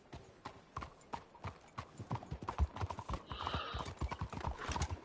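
Horse hooves clip-clopping in Red Dead Redemption 2, a quick steady trotting rhythm of close, crisp hoof strikes with a brief snort or whinny partway through.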